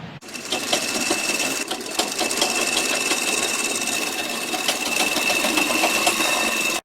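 Sewing machine stitches a blouse in a continuous, close, whirring run with a rapid needle rattle, stopping abruptly at the very end.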